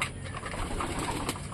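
Pigeons in a dirty home coop coo and shuffle through a steady, close, mid-level murmur of birds, with faint wing movement and no voices.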